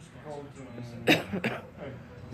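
A woman in labour gives a single harsh cough, followed by a second shorter one, close by and fairly quiet.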